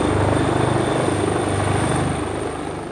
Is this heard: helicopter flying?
yes